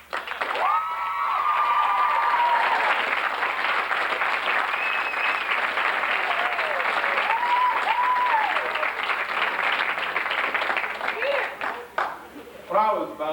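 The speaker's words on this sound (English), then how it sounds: "I think maybe the class of 1998 should give you all a round of applause" A graduation audience at a 1998 high school ceremony breaks into sustained applause that fills the hall, steady and loud throughout, with a few whoops and cheers rising over the dense clapping before it thins near the end.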